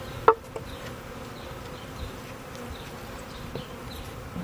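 Honeybees being installed into a hive fill the clip with a steady, close, low buzzing swarm drone, with a brief tap or knock near the start and no speech.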